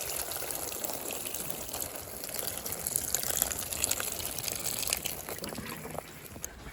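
Water pouring steadily onto sweet peas hanging in a polytunnel, a continuous close hiss and gush running for several seconds with a slight drop near the end.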